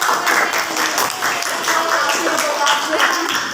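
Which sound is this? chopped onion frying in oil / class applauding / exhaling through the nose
class applauding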